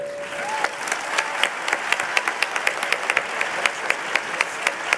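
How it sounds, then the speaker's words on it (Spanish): A university audience at Tec de Monterrey's ACTÚA 2018 student event applauds students on stage with a dense, sustained round of clapping and a few distinct sharp claps on top. "Un aplauso, por favor."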